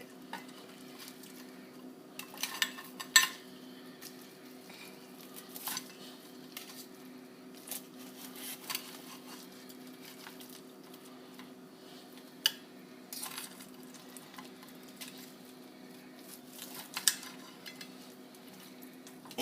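Cooked pork belly (Lechon Kawali) being sliced on a plate, with faint scattered knife and cutlery clinks and scrapes over a low steady kitchen hum.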